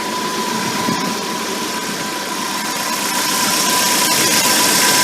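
A 2.5L Jeep TJ engine idles steadily and loudly after a water pump replacement, a constant close mechanical drone with a fixed pitched whine running through it and no talk.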